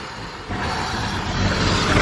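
A BMW E34 M5 engine fitted with velocity stacks runs nearby, a dense, raspy induction roar that swells louder after a moment and holds steady.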